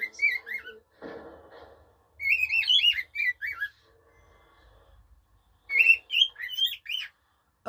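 A pet bird gives close whistled song phrases and chirps in several bursts, with a brief rustling noise and short pauses between phrases.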